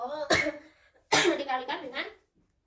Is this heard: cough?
yes